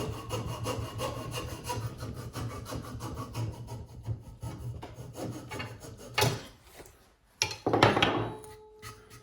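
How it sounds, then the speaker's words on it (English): Coping saw cutting through a wood block while roughing out a King Eider drake head carving: fast rhythmic rasping strokes, close and clear, slowing and breaking into a few scattered scrapes and knocks near the end. "I'm just hogging off sections right now with the coping saw."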